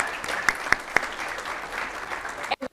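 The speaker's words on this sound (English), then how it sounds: "Think that deserves a hand clap?" A crowd at the DeSoto State of the City address claps steadily, with a few sharp nearby claps standing out from the even applause before it breaks off abruptly.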